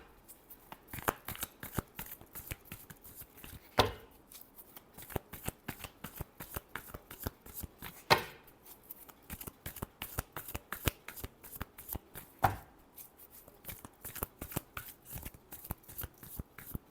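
Tarot cards are shuffled by hand in a long run of quick riffling flicks, close and soft, with a few sharper snaps at intervals and no talking.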